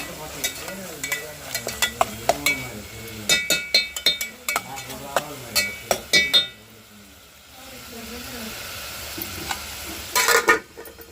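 Curry stirred and mixed with salt and turmeric in a pan, a run of sharp spoon clinks and scrapes against the metal over a faint sizzle, with a voice talking throughout and a brief louder burst near the end.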